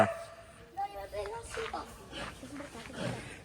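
A dog in the cab of a parked lorry at Sivakasi gives short yips and whimpers close by, mixed with ongoing talk from people nearby.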